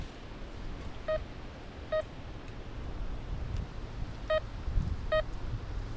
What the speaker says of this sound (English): You're getting like one beep. It's not repeatable